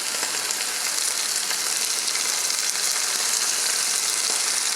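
Onions sizzle steadily in hot oil in a pan on the stove for beef stew, a dense, even crackling hiss that holds at a constant close level with no voices.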